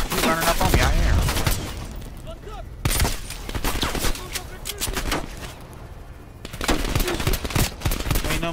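Gunfire in the Call of Duty Cold War game on realism difficulty, with an enemy's shots striking the player: loud, sharp bursts of rapid shots in several clusters over constant battlefield noise, with a voice talking faintly underneath.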